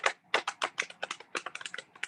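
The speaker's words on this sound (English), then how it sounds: "I'm just shuffling cards, guys." Tarot cards being shuffled make quick, close clusters of crisp riffling clicks in an irregular rhythm, with short pauses between bursts.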